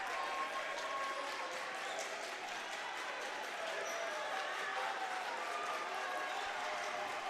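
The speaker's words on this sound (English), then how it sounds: "as the Elmhurst crowd gets into it a little bit now" A college basketball crowd at an Elmhurst home game applauds and cheers in a steady, distant wash of clapping, with ball bounces and an announcer talking over it.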